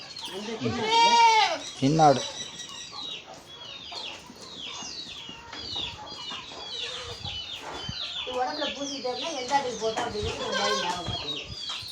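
Goats on a farm during deworming bleat loudly and close at the start, then keep calling intermittently while chickens cluck and other farm sounds continue.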